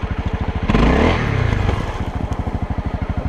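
A Honda CRF 250L dirt bike rides through snow, its single-cylinder engine thumping steadily and close, swelling briefly as it revs, with scraping and clatter from the ride.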